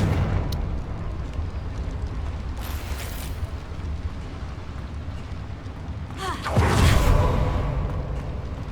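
A Confringo fire explosion spell in Hogwarts Legacy bursts out as a loud whooshing blast late on, after a softer rush earlier, over a constant low background rumble.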